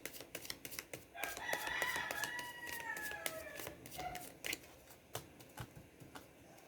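A neighbour's rooster crows at midday in a long, clear cock-a-doodle-doo from a short distance, while nearby keyboard-like taps and clicks continue throughout.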